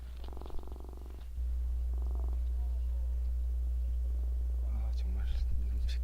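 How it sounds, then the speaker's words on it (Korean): A cat purrs close to the microphone indoors, a low rhythmic rumble that pulses in short bursts before a steady low hum takes over, with faint rustles and a brief quiet voice near the end. "지금 고양이 드릉드릉 하는 소리."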